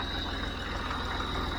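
A three-cylinder Massey Ferguson MF50 tractor with a loader runs at a steady, fairly quiet idle on a farm, a low rhythmic chug with an occasional cyclical knock.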